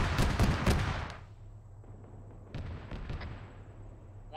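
Autocannon fire in the military shooter ArmA 3: a rapid burst of heavy booming shots up close, then a quieter string of distant thuds over a steady background rumble.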